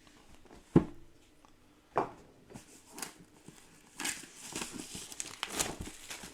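The wrapping on a Zombicide Marvel Zombies board game box is torn open, giving a few sharp crinkles at first, then a longer stretch of close plastic crumpling and rustling, with no talk.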